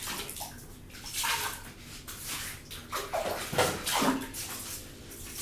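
Tap water runs and splashes in a bathroom sink during face washing, uneven gushes and sloshes rising and falling close by, with no talking.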